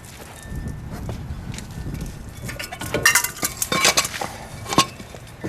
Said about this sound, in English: And we're going to lift off our rotor.